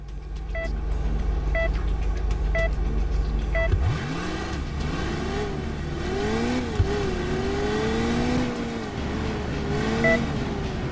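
A car in the Crash Time 2 driving game revving up for a jump, the engine idling with a steady hum, then climbing and wavering in pitch as it accelerates hard, loud and close with periodic beeping tones.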